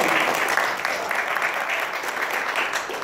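Audience members at a magic show applaud a woman marking a 25-year wedding anniversary, giving a brief, busy round of clapping that eases slightly toward the end.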